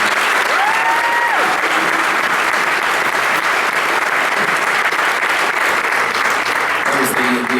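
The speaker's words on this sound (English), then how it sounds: "A big round of applause for them." An audience at a jazz band concert applauds a high school Air Force JROTC color guard, a loud, continuous roar of clapping that stays steady throughout while a voice briefly sounds over it.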